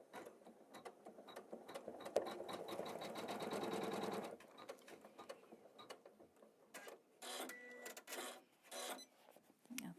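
A home embroidery sewing machine stitches a Christmas tree design in rapid, rhythmic mechanical bursts, a dense run of needle strokes followed by short pauses and quicker clicking, ratcheting passages, close and fairly quiet.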